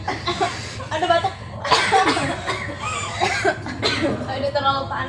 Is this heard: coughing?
yes